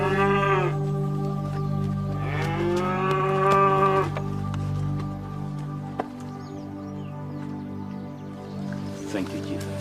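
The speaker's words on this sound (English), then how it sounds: "I've brought your cow back to you." A cow moos loudly nearby in two long, drawn-out calls, followed by quieter farmyard sounds with faint dripping and a brief higher cry at the end.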